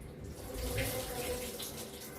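Hot water runs steadily from a kitchen sink tap, a continuous hissing splash that stays close and even throughout with no talk over it.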